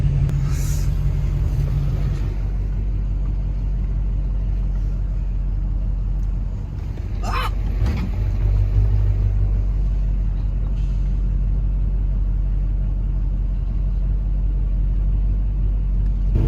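A cabover truck with a boost leak tows a boat on a hitch, its engine a steady loud low rumble with a short hiss-like burst partway through, continuous and close without speech.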